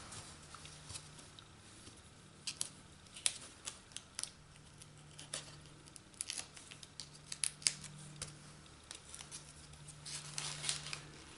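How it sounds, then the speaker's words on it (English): Scissors trim the ends of small Halloween paper craft pieces for a box-in-a-bag treat, a quiet run of crisp snipping clicks in irregular bursts over faint background hum, no talking. "And then just trim the ends."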